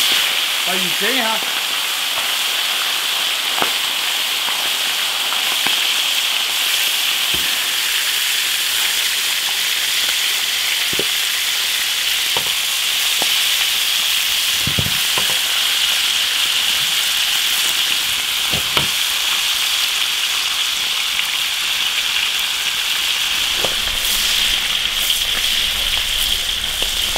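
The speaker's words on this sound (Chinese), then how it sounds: "把鱼煎一下。" Yellow catfish frying in hot oil in an iron wok gives a steady, loud hiss and sizzle like rain, with a few soft clinks and knocks scattered through it.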